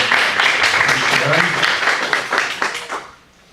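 Applause breaks out from the audience at an academic mathematics café gathering, a burst of brisk clapping that holds for about three seconds before quickly dying away into quiet.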